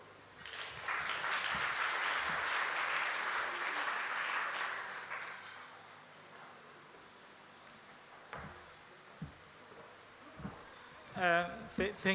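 An audience at the Doctor Of Hearts book launch claps in a steady round of applause for about five seconds, then it fades and a person speaks nearby.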